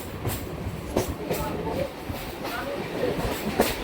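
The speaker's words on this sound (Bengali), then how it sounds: "হবিপুর রেল স্টেশনে প্রবেশ করছে ট্রেন" Ranaghat–Shantipur–Krishnanagar local train pulling into Habibpur station, a steady rumble of rolling wagons with a few sharp clanks and wheel knocks, close by, with voices faintly mixed in.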